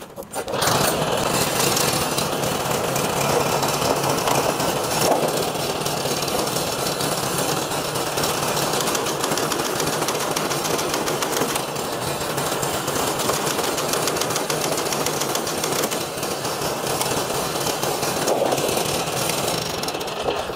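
A walk-behind rice transplanter's small engine runs steadily and loudly for the whole stretch, a dense, even mechanical drone with a rattling, jackhammer-like texture and no talking over it.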